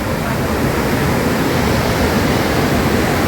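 Floodwater in a swollen river rushes with a dense, continuous roar, loud and unbroken throughout, near where a flood has swept away a bridge.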